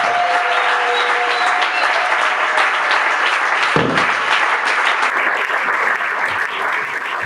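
Church congregation applauding during a special prayer service, a dense, steady wash of clapping hands that stays loud throughout with no speech.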